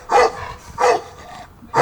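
Dog barking in a horror TV series, three loud, close barks spaced roughly evenly with brief quiet gaps, heard alone.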